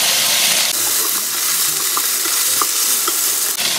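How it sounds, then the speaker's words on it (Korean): Sliced bellflower root (doraji) stir-fried in a tablespoon of sesame oil gives a steady, close sizzle with soft scraping stirs and small pops throughout. "투명하게 볶아주시면 됩니다."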